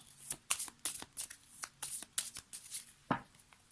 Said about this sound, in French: Donc on va être obligé de couper.